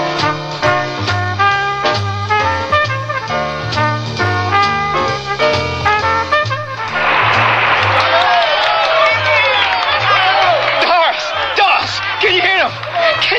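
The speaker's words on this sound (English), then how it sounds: "Can you hear that applause?" Music plays first, then a concert crowd erupts into loud cheering, whoops and clapping that carry on over the music until the end.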